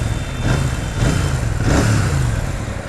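A Royal Enfield Super Meteor 650 motorcycle's twin-cylinder engine fires up and settles into a deep, throbbing exhaust note, loud and close, with gentle rises and falls as the throttle is blipped.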